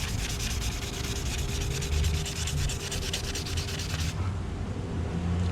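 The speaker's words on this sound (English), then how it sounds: "Rust being really deep inside the blade. Yeah, some scrubbing off is in progress over here." Steady abrasive scrubbing of deep rust from a steel blade during field-gear restoration, a continuous rough rubbing close up that runs unbroken and alone for several seconds.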